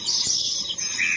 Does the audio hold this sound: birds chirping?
yes